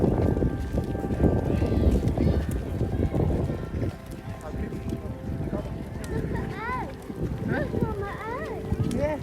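Horses' hooves clip-clop unevenly beneath steady talking from several people, with outdoor background noise throughout, in Warwick.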